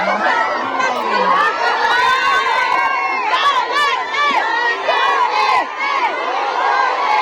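A large crowd of Filipino supporters at a public gathering in London shouts and cheers loudly and continuously, many overlapping excited voices rising and falling together.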